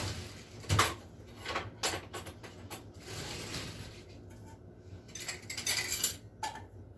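Metal cutlery rattles and clinks as a spoon is grabbed in a home kitchen while baking muffins, a cluster of sharp jangles followed by softer handling clatter and a drawer or door moving nearby.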